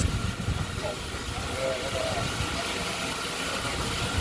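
Steam locomotive 4555 Warrior hisses steadily while taking on water at Paignton Queen's Park Station on the Paignton and Dartmouth Steam Railway, a broad continuous hiss with low engine rumble on a windy day, and a voice talks over it.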